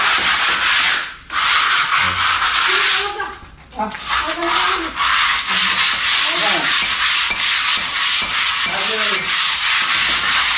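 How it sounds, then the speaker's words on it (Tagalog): Sandpaper rubs back and forth on wood to remove excess material before painting, loud repeated scratchy strokes with a few brief pauses, while voices talk intermittently underneath. "Naglilihan naman si mga sobra-sobra para matanggal. Para suabe pag pininturahan."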